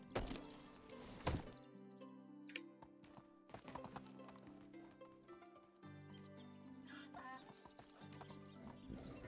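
A donkey in the video game Medieval Dynasty brays loudly in a long, see-sawing call over hoofbeats and faint background game sounds, with little talk.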